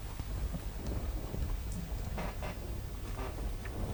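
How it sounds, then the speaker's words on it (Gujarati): Steady rain pours down over rural Bhavnagar farmland in Gujarat, India, an unbroken hiss, soft and even, with no other sounds standing out. "જે પ્રમાણે સતત વરસાદ વરસી રહ્યો છે"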